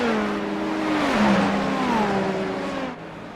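Three GTP prototype race cars sweep past an LMP2 car at Fuji, a loud continuous engine roar with the pitch sliding downward as they pass, close and alone.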